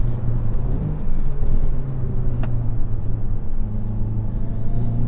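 A 2021 Hyundai i30N driving on a circuit makes a loud, steady engine drone with road rumble, heard from inside the car, the pitch shifting slightly as it moves.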